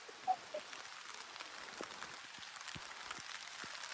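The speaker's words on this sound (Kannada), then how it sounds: "ಮಳೆ ಬಿಡುದಿಲ್ಲ ಮಾತ್ರ ಸುಮಾರು ಹೊತ್ತು ಬತ್ತು ಮಳೆ" Light rain falls steadily during an evening motorbike ride, with scattered drops pattering in a faint, even wash. Nobody talks.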